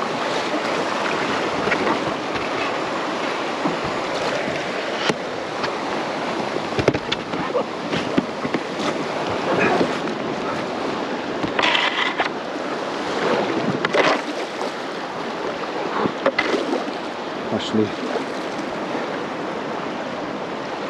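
Rushing river water and a small rapid splash steadily around a canoe floating down the Ambler River, a continuous loud broadband wash with occasional knocks and bumps of paddling.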